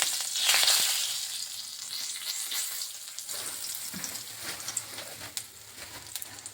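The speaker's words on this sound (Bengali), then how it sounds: "এখান দিয়ে দিচ্ছি একটা শুকনো লঙ্কা কাটিয়ে আর এখান দিয়ে দিচ্ছি দুটো তেজপাতা ছিঁড়ে দিয়ে দিচ্ছি" A dried red chilli and two torn bay leaves sizzle in a little hot oil, giving a loud hiss that bursts up at first and then settles into a steady crackle with small pops.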